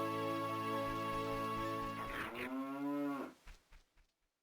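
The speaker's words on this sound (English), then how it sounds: "I'm not getting used to the cow being the wolf noise" Cow mooing in a video game, a single long, loud bovine call with a falling, drawn-out tone, ending abruptly and fading into silence.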